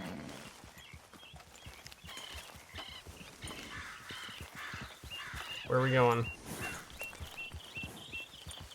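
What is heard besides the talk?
horse hooves while riding, from the video game Red Dead Redemption 2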